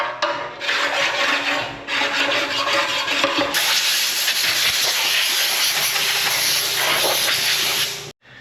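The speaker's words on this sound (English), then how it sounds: "Take a file and make sure there's no tall burrs." A hand file rasps across the surface of a 1936 tractor engine to knock down burrs, a steady, close, hissing scrape with rhythmic strokes running for several seconds before stopping abruptly.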